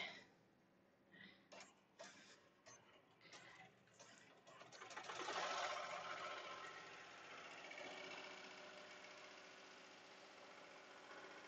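An embroidery-style sewing machine starts stitching a patch, first a few scattered clicks, then a steady mechanical whirr and rapid tapping that rises and holds at a moderate, close level.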